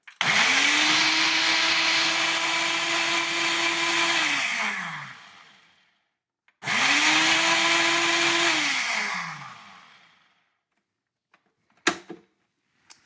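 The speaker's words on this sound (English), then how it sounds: "I've got one of these little handy blender thingies. Single serve, just put that on there. Come over here, go in the blender, turn it on," A single-serve blender whirs loudly in two pulses of several seconds each, winding down after each run, with a brief clatter at the end.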